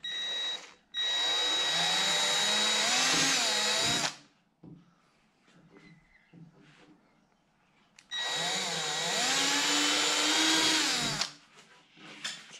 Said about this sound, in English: Drill 2 holes at each top corner of the ball holder as